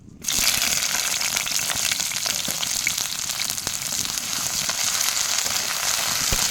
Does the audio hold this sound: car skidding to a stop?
no